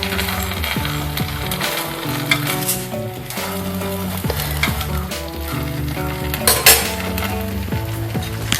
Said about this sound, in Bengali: দেখুন একইভাবে বাকি সমস্ত পিঠেগুলো আমি ভেজে নিলাম।